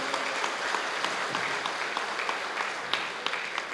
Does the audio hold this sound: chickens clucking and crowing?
no